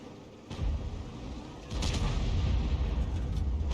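A Lorraine 155-51 artillery piece firing in a tank video game, heard as deep booming blasts, one after another, each followed by a sustained low rumble.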